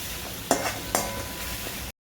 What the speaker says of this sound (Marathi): हे बघा आता कांदा आपला भाजत आलेला आहे